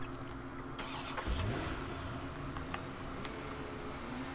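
A car engine turns over and catches in the Watch Dogs video game, a brief starter crank rising into a low hum that settles into a quiet idle, soft and alone.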